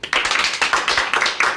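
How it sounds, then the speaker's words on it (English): One person claps their hands in a quick run of loud, close claps, roughly a dozen in rhythmic bursts with a short pause midway. "clap my hands."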